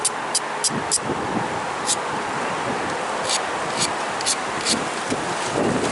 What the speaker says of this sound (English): Ooh, that wind.